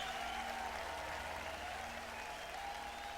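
Concert crowd applauding at the end of a live Spock's Beard recording played back, a dense, even wash of clapping and cheering that holds steady and sounds slightly distant and soft.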